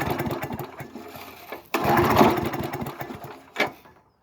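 A 22-inch Murray lawn mower engine, freshly primed, sputters and catches briefly in two loud rattling bursts, then cuts out into silence.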